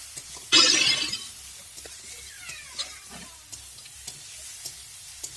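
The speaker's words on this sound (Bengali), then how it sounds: "লবণটা দিয়েও আমি ভালো করে নেড়ে নিলাম, নেড়ে নিচ্ছি।" Vegetables being sautéed with salt in a pan for a thin tengra fish curry: a loud, short burst of sizzle as they are stirred, followed by quieter scattered scrapes and light clinks of the utensil against the pan.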